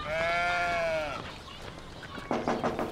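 A sheep lets out one long, wavering bleat up close. It is followed by softer rustling and a few clattering knocks.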